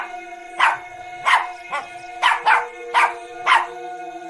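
A dog barks in a rapid series of about eight sharp, loud, close barks in an irregular rhythm, heard alone over a steady background hum.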